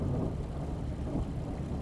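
Steady low rumble of a ship's thrusters running forward in a ship simulator during a pilot transfer to a cruise ship, a constant droning hum with no breaks and no voices.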